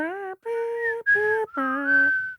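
Four sustained whistled notes form the short four-note whistle tune from The Hunger Games, clear and close, each note held briefly with small gaps between them.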